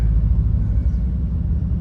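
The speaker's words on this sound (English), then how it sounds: "if you can hear it a little bit, there's still a misfire, but it's not shaking" A Subaru engine idles with a slight misfire, a loud, close, low rumbling drone with small uneven pulses and no talk over it.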